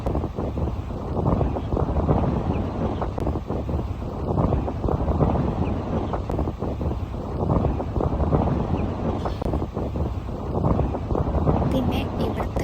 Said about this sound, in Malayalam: പിന്നെ ഇവിടുത്തെ കാറ്റ് അടിപൊളിയാണ്.